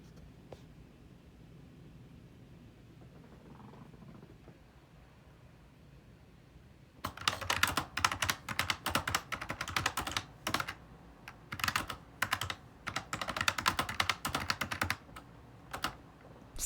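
Quiet room tone gives way to steady, brisk typing on a computer keyboard, keys clattering in quick uneven bursts for several seconds while a draft is written at night.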